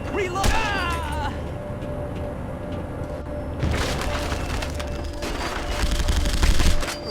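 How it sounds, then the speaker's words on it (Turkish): Shotgun gunfire in The Punisher video game, with booming blasts and crackling impacts over a busy game soundtrack; a brief voice is heard near the start. "Bu ne kadar aptal bir şatkan stili ya. 30 mermi."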